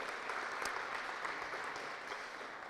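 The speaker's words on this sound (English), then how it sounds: "Let's cue for another applause right there" Faint, steady applause from an audience at a work-readiness skills agreement signing ceremony, a soft continuous patter of many hands with no voices over it.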